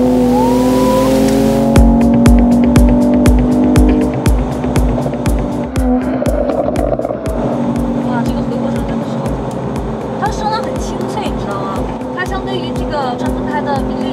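A Mercedes-Benz E53 AMG engine and exhaust pull steadily while driving, a crisp, continuous drone with a rhythmic pulsing texture throughout, loud and close, with a faint voice underneath.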